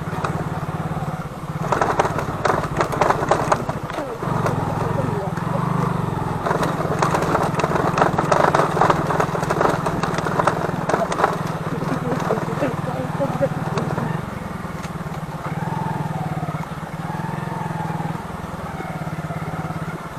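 An old-model Hero Glamour motorcycle labours off-road in first and second gear along a muddy, waterlogged track near Chatakpur, Darjeeling, its engine thrumming steadily with bumpy surges while someone talks over it.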